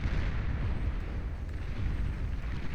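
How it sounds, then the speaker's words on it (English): A high-energy plasma artillery shell bursts in Beyond All Reason, giving dense rumbling explosion noise that holds steady and loud through the short stretch with no clear single onset and no talk. "Plasma field disintegrates and the condensed matter explodes immediately"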